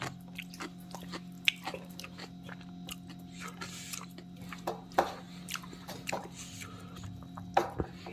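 Someone eats khichuri with cauliflower curry up close, making soft, intermittent chewing and biting sounds with small wet clicks. A low hum sits underneath and no one talks.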